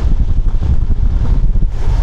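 Wind buffets the microphone of a cyclist riding on a breezy, sunny day near Žilina, Slovakia, a loud, steady rumbling roar that gusts unevenly throughout with no voices.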